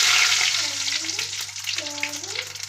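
Tempering spices dropped into hot oil in a kadai crackle and sizzle loudly at first, the bright hiss gradually easing, while a low electrical hum and faint tonal sounds run underneath.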